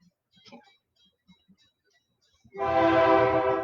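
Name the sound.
train passing by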